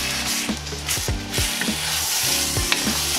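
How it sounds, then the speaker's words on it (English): Spaghetti sauce seasoned with granulated onion and garlic salt sizzles in a pan as a utensil stirs it in rhythmic, repeated scraping strokes, close up over a continuous hiss. "So we're just going to stir this together."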